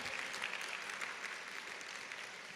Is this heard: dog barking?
no